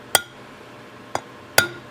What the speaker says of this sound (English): I'm just going to give a little punch mark here.